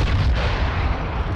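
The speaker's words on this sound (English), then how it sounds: "Why did a missile just get launched?" Missile launch in a shooter video game, a dense low roaring rumble with a continuous heavy boom that fills the whole moment, loud and close with no speech over it.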